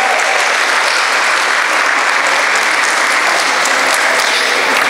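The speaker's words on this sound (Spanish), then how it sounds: "para quien pida un fuerte aplauso" Loud, dense applause from an audience at a breast cancer talk, honouring a woman who gave her testimony; continuous, even roar of many hands clapping throughout with no break.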